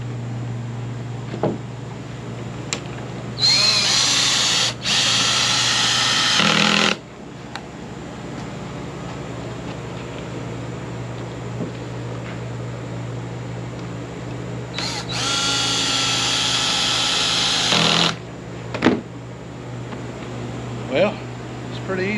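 A cordless drill set to 50% clutch whirs in two bursts, with faint clutch clicking around them and a steady background hum, while building a screened-in porch. Someone talks quietly in between.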